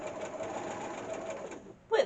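Sewing machine stitching up the sides of a drawstring bag, a steady rapid mechanical whir that stops near the end, followed by a brief louder clunk.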